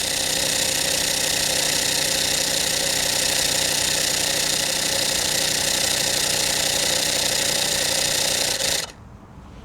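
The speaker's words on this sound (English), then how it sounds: "Hopefully you guys can see that, but it is pumping." Electric foam sprayer pump running steadily with a loud, dense mechanical drone and hum, then cutting off abruptly near the end.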